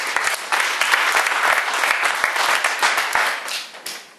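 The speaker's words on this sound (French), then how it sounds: "On peut les applaudir même s'ils ne sont pas là" An audience at a basset hound field-trial awards ceremony claps loudly for the third-place finishers, a full, continuous burst of applause that thins out near the end.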